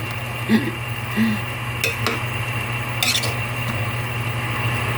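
A spoon scrapes and knocks gently inside a cooking pot of boiling tinola soup, with a few soft clinks over a steady low bubbling hiss from the stove.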